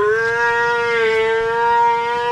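A cow on a farm gives a long, loud, sustained moo close by, heard clearly on its own without any talk.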